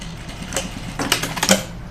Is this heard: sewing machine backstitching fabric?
yes